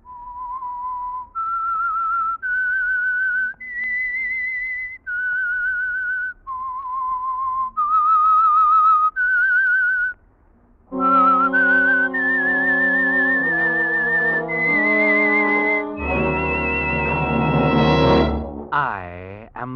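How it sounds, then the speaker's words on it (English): A theme tune from The Whistler radio drama, whistled as a slow, eerie melody of sustained notes, loud and clear. An orchestral swell joins in and builds under the whistling. "That whistle is your signal for the Signal Oil program"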